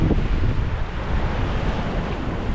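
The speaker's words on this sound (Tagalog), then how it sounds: "Malakas yung alon." Heavy ocean surf at a rocky fishing spot on the coast at Avoca roars steadily and loudly, a constant wash of crashing water mixed with gusty wind buffeting the microphone.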